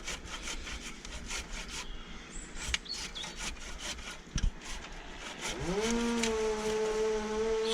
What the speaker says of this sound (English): Sound effects to the saw